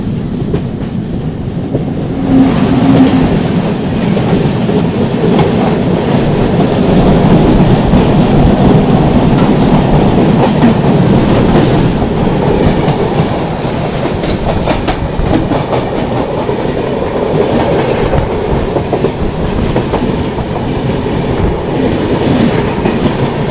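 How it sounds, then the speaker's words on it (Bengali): Loud, sustained roar of a fast express train passing, heard from a MEMU train on the Santragachi to Jhargram line, with rhythmic clickety-clack of wheels on track, close by and unbroken, no voices. "সামনে একটা এক্সপ্রেস ট্রেন আসছে"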